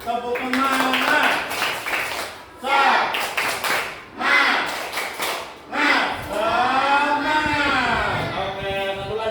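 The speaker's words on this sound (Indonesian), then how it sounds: "Tepuk semangat." A school class claps a rhythmic cheer for a student named Putra, with bursts of quick patterned claps under loud group chanting and voices throughout.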